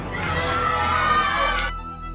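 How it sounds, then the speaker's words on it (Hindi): Children shouting and cheering together while playing street cricket in a Mumbai lane, a loud burst of excited young voices under a musical drone that cuts off sharply near the end. "क्या मुंबई में बच्चे सड़क पर क्रिकेट खेलते हैं?"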